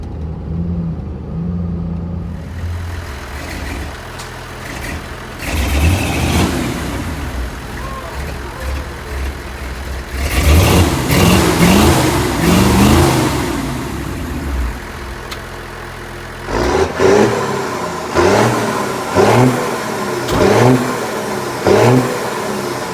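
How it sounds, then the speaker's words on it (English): A rat rod truck built from an International, diesel engine with the pump turned up, revs hard in several rising bursts while rolling coal, loud and close, with people cheering over the roar. "Let's see if he rolls some coal for us."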